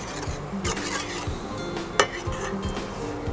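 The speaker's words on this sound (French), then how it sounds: "Je mélange juste au départ pour éviter que le sucre brûle au fond de la casserole." A utensil stirs sugar and water in a saucepan, giving soft scraping swirls with a few light clinks against the metal, close and quiet.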